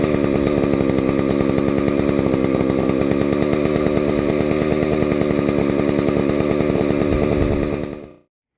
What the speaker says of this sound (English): So I think we have a chainsaw.